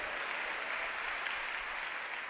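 Church congregation clapping together during a Telugu sermon at Krupa Ministries in Guntur, a dense, steady wash of many hands that holds evenly for a couple of seconds without pause.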